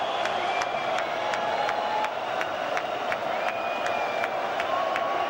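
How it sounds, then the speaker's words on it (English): Boxing arena crowd in Belfast's Odyssey Arena cheering, a dense, steady roar of many voices filling the space throughout, loud and unbroken, with a faint regular ticking over it. "Whipping up the crowd to still greater levels of volume."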